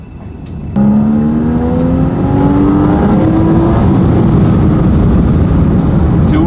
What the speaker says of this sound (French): rendez-vous dans la voiture du chef du groupe 9, Jean-Marc Vernet